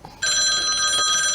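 A telephone bell rings abruptly after a moment of quiet, giving one loud, bright, continuous trill that carries on to the end.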